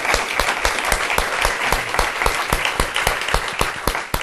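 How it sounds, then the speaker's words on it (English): A full audience at a panel discussion on floods and droughts in Asia applauds three panelists, producing loud, close, continuous clapping with sharp individual hand claps standing out throughout. "can I ask all of you to applaud these three gentlemen one more time?"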